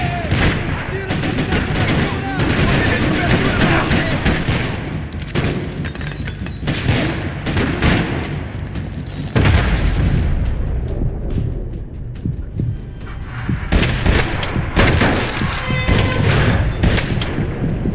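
Loud, sustained gunfire and explosions rattle in dense bursts throughout a Max Payne 3 firefight, with shouting voices mixed in under the shooting.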